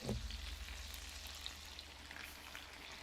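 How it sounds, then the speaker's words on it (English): Food with juice sizzles in a pan, a steady soft crackle and hiss close by, with a low hum beneath it and no talking. "Oh, I can just hear the goodness sizzling."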